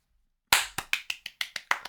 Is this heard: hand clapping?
yes